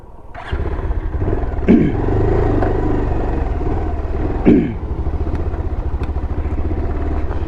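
A motorcycle engine revs hard while riding off-road through deep mud, a steady loud drone with two sharp surges in pitch, alone with no talk.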